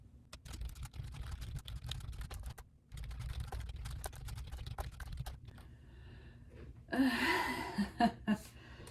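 Fingers type on a computer keyboard in rapid bursts of soft clicks, broken by a short pause, followed near the end by a brief breathy vocal sound over the quieter tapping.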